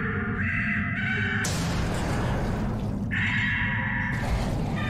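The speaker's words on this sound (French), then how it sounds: "Ah c'est ça, c'est un corbeau géant." A giant crow in the video game BioShock Infinite caws in harsh drawn-out bursts over a constant rumbling game backdrop, with a loud crashing swell between the calls.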